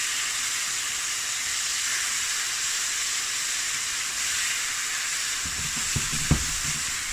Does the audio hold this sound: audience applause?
no